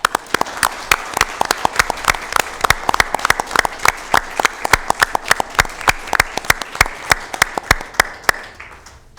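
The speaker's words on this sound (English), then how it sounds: "I'd actually like to give you a round of applause" A small meeting-room audience at a county board of supervisors session gives retiring county staff a round of applause, distinct individual claps in a dense steady run that thins and stops near the end.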